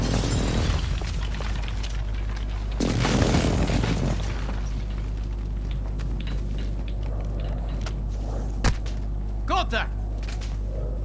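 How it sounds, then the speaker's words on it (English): Enemy precision airstrike explosions in a video game land as a dull boom early, then a bigger, longer blast, followed by scattered cracks and a sharp snap over a low steady hum. A voice speaks briefly near the end. "Enemy precision airstrike."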